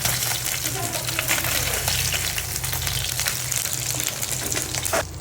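Pabda fish fry in hot oil in a home kitchen, with a steady, close, continuous sizzle and crackle and occasional louder spits.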